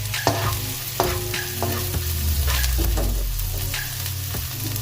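One onion goes into a hot frying pan for a misua patola with tuna balls dish, bursting into a loud, steady sizzle with stirring scrapes and clinks up close.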